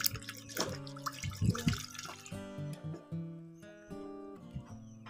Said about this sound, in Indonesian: langsung saja dimasukkan ke air dan diaduk.